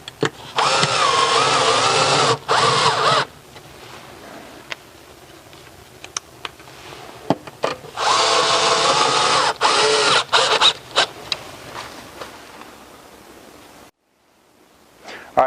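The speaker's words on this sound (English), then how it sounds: "Now we're going to screw directly into the wall using these 2 5/16." A power drill drives screws into a wall while mounting a bracket for a freestanding Electrolux/Frigidaire gas range: two sustained, loud whirring bursts of a few seconds each, separated by quieter clicks and handling noise.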